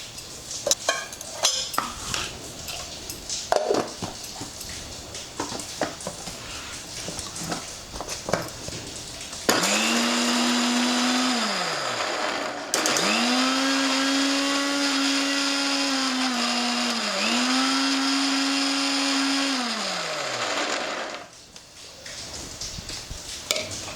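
A mixer grinder whirs loudly and steadily for about ten seconds, blending vegetable stock with Ooty beans, pausing briefly partway, then cutting off; quieter kitchen clatter comes before and after.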